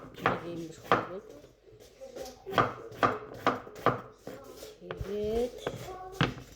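Knife chopping food on a board, with a series of sharp, evenly spaced cuts close by while people talk over them.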